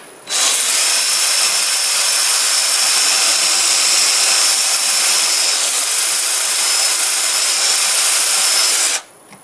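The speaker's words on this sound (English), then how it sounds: "It sands pretty nice." A power sander whirs steadily at close range on turned wood for several seconds, a constant loud hiss without pauses or voices.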